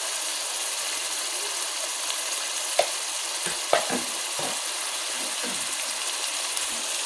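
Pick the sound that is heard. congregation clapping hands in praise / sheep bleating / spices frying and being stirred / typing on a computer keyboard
spices frying and being stirred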